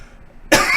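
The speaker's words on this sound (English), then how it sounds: "now I shall cough without blowing eardrums out" A single loud, close cough bursting out after a near-silent pause, while the person has the flu.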